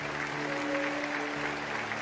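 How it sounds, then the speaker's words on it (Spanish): An audience at a church sermon applauds, making a steady wash of many hands clapping together. The sound stays even and full throughout, with a faint sustained tone underneath. "Ese aplauso para ustedes"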